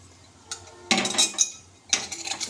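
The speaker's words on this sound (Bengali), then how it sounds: "চামচ দিয়ে নেড়ে চেড়ে নেব" A spoon stirs cumin in a cooking pan, scraping and clinking against the metal in two short bursts of rattling contact, close and clear with no voices over it.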